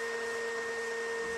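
A vacuum cleaner runs in a steady, loud drone with a high whine, continuous and unbroken until it cuts off at the end.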